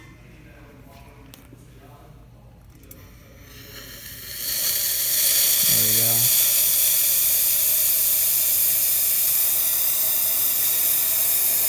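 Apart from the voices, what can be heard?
La Pavoni espresso machine steam wand hissing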